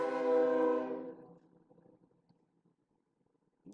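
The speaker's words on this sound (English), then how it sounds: "there's that good old train." A distant train sounds its horn in one sustained blast that fades away over about a second, leaving near silence with faint rumble before another sound begins at the end.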